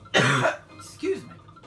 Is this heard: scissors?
no